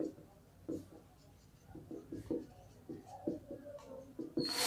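Chalk or marker taps and scratches out a run of short, uneven strokes on a board during a physics lesson, close and fairly quiet, with a voice speaking at times.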